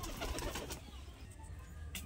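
A pet pigeon coos softly in brief low murmurs, faint and close, with light rustling around it.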